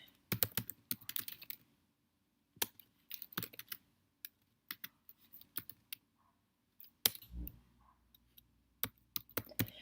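Typing on a computer keyboard nearby, irregular bursts of quick key clicks separated by short pauses, with a few louder taps, in a quiet room with no talking.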